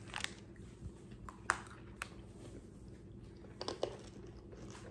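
Faint crunches and bites come from someone chewing hard, crunchy freeze-dried candy, with a few sharper cracks standing out against a quiet background.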